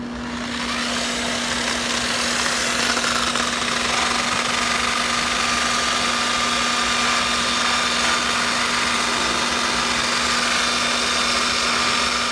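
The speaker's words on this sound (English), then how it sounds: "Alright, so we got the face of the wheel cut." Face of an American Force wheel being cut or resurfaced, a constant loud grinding whine with a steady tonal hum, close and unbroken for the whole stretch with no talking.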